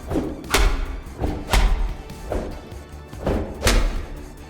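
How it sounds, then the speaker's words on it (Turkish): Heavy punches beating a character in a prison video game, four loud thudding blows at roughly one-second intervals with a dull rumble between them. "Ben bunu dövmeye devam edeyim"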